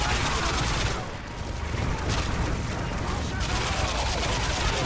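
A sentry turret in a Modern Warfare 3 survival match on Seatown fires a dense, continuous stream of shots, loud and unbroken, with chatter from players mixed in.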